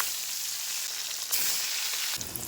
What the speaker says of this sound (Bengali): মাছ দুটি ভেজে নেব।